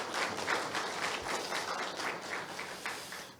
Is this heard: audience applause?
yes